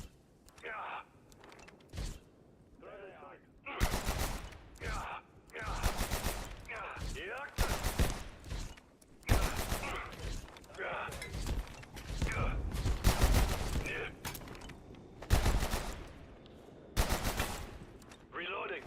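Automatic gunfire in the video game Abiotic Factor, with repeated loud bursts of rapid shots separated by short pauses and quieter gaps.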